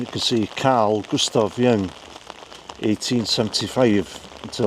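Rain falls steadily at a gravesite in Switzerland, a soft continuous patter heard beneath someone speaking throughout.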